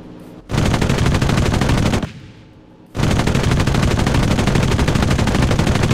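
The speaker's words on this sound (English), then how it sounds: "Cover fire." Video game cover fire from an automatic weapon: loud, continuous rapid bursts of shots, broken by a brief quieter pause before the sustained firing resumes to the end.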